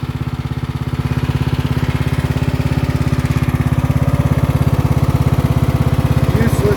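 A 12.5-horsepower flat engine on a small tractor with ag tires idles steadily nearby, a loud, even low-pitched chugging pulse with no one speaking over it.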